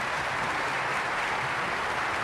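Standing deputies and senators in the Spanish Cortes applaud the King's speech at the 1978 Constitution ceremony, a continuous broad wash of many hands heard from a distance, steady and alone.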